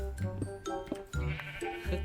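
Several short, repeated sheep bleats from the Minecraft video game follow one another in quick succession, fairly close and clear, with no talk.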